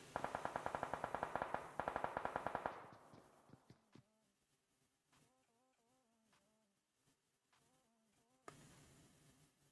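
Rapid automatic gunfire from a competitive battle-royale-style video game scrim match, loud bursts of tightly spaced shots for the first few seconds, then fading into quieter scattered pops and clicks, with a final sharp crack near the end.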